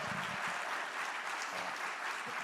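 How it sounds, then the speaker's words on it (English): A round of applause from an audience at the Philadelphia airport's State of the Airport program, honoring Marketplace staff Mel, Hannah and Clarence; dense, even clapping throughout, moderately loud. "I want to acknowledge Mel, Hannah, and Clarence. They run Marketplace. Give them a round of applause."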